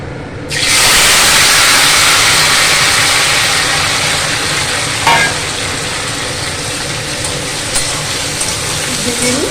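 Loud, continuous sizzling of a dried red chilli dropped into hot oil in a pan, starting suddenly and hissing steadily throughout, with a few faint clinks and no talk.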